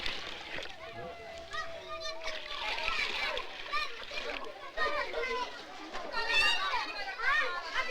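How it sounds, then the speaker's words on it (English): Water splashes and pours into clay jars and pots in a Burmese village, bursts of splashing heard nearby under constant excited chatter and children's voices. "It's a joyous moment when the water pours into the clay jars and pots which have been standing bone dry."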